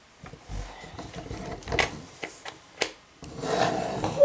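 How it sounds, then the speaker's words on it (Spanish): A small brush rubs across a toy horse in quick, soft scratchy strokes with a few sharper brushing swipes, close up and fairly quiet. "También trae este cepillito. Vamos a cepillar."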